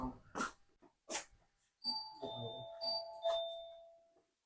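A doorbell at a workplace rings out in a series of clear electronic ding-dong chimes, preceded by a couple of short, close dog yelps, with faint voices in the background.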